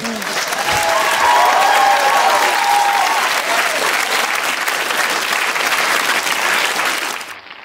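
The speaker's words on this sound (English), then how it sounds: "The begged for applause." Audience applause closing a stand-up comedy show, a full, loud burst of clapping that holds steady for several seconds with a little crowd noise, then tapers off near the end.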